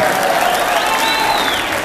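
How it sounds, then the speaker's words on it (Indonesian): Steady, dense applause from a large crowd at a Batak political rally declaring support for Jokowi and Kyai Ma'ruf, loud and continuous throughout. "Tepuk tangan buat orang Batak yang sportif."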